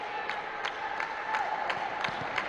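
Spectators and players' parents at a women's club volleyball match in the African championship clap steadily from a distance, a continuous even patter of applause with a few sharper claps standing out.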